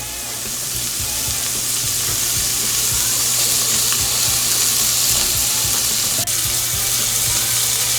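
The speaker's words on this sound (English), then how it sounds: "so I'm gonna go in with the bacon" Bacon sizzles and fries in a hot pot for Southern red rice, a steady loud crackling hiss with occasional pops and stirring clicks, close and without talk.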